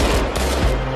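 Gunfire from live-round police training by Yassam officers in Jerusalem, heard as several loud, sharp reports in quick succession within about a second.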